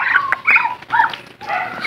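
A farm dog that guards pet ducks gives several short, sharp barks and yips in quick succession, fairly close and alone with no talk over it.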